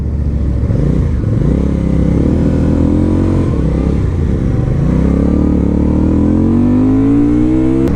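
A 2025 Benda Chinchilla 500 motorcycle runs loud and close while being ridden, its engine droning steadily, then climbing in pitch as it revs and accelerates toward the end.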